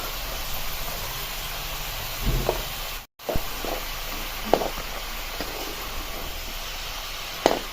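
Bottle gourd pieces stirred through a hot spice tempering give a continuous soft sizzling hiss, broken by occasional spoon knocks and scrapes against the pan, with no voices.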